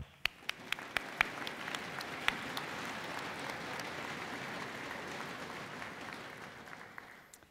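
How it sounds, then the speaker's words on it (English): Audience at a Richland College fall convocation applauding award nominee finalists, a steady, fairly distant wash of clapping with a few sharper nearby claps standing out, lasting throughout and tapering slightly at the end. "we applaud all of the nominee finalists in the Jean Sharon Griffith Award category"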